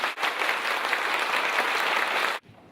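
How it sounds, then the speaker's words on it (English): A conference audience claps as hard and loud as they can, a thick, even wall of applause that holds at full strength, then cuts off abruptly near the end, leaving quiet room tone. "That spontaneous round of applause you just gave me"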